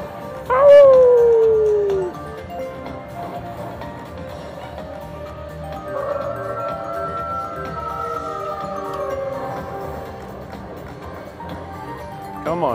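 A wolf howl rings out during a slot machine bonus feature, a loud falling wail lasting over a second, followed by quieter tonal jingles and game music.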